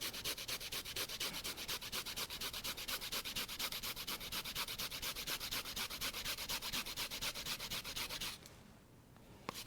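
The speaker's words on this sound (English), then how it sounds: "So now I'll just grate around 1 teaspoon of ginger straight into our small bowl for the sauce." Fresh ginger is rubbed against a grater into a small bowl in fast, regular scraping strokes that run steadily for about eight seconds and then stop, leaving near quiet.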